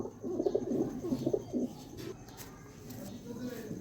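A young female Teddy pigeon coos in a run of soft, throaty, repeated calls close by for about a second and a half, then falls quiet while faint background noise continues.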